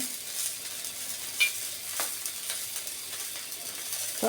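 Dried kachki fish frying in a pan for a mashed bhorta, giving a steady close-up sizzle and hiss with a few soft scrapes of stirring and no voices.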